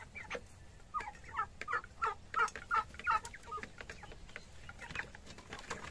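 A turkey gobbles in a rapid run of warbling calls, fairly faint and somewhat distant, with other poultry sounds around it.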